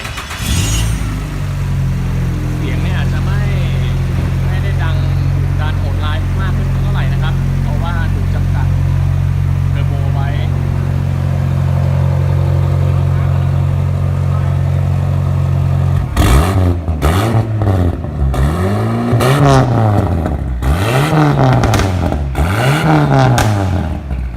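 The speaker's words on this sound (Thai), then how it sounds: "เดี๋ยวเราจะสตาร์ทเครื่องให้ดูอีกรอบนะครับ" Nissan 350Z circuit race car engine idling low and steady, then revved repeatedly in loud rising and falling bursts, with a person talking over the idle.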